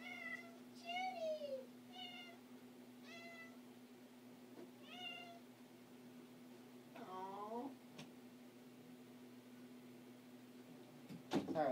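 A house cat meows indoors several times in short, close bursts, with a steady electrical hum underneath and a faint clatter near the end.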